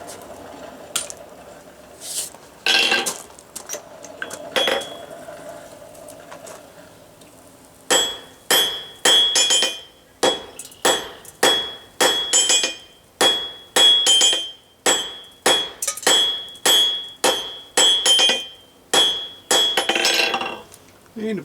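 A hammer forges steel bolt jaw tongs on an anvil. After a few scattered knocks, a long steady run of ringing metallic blows follows at a brisk, even rhythm, loud and close.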